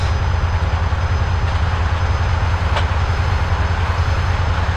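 A train rolls along in the video game GTA San Andreas, giving a steady low rumble and rolling drone at constant loudness with no breaks and no voices.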